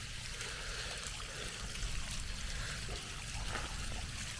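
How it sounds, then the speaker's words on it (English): Mineral-laden hot spring water discharges and trickles from the springs above, a steady, dense rushing splash that holds constant and fairly loud with no talking. "this is all water coming out of the hot springs up top"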